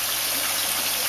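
Water pumped up through plumbing into an aquarium protein skimmer makes a steady, dense rushing gush, close and constant with no break, alone without talk.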